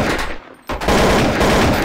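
Counter-Strike: Source gunfire on the de_dust map: a loud, dense burst of rapid shots that breaks off for a split second and then resumes as continuous automatic fire.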